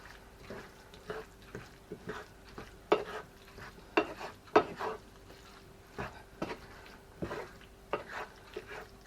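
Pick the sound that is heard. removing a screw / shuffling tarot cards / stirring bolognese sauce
stirring bolognese sauce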